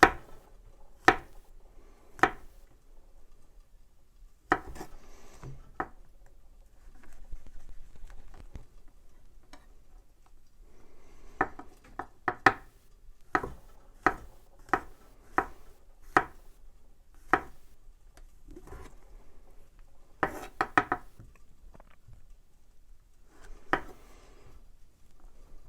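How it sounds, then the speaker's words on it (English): A knife chopping mushrooms on a cutting board, sparse sharp taps in irregular clusters, close and fairly quiet, with faint background noise between strikes. "Chop up some mushrooms."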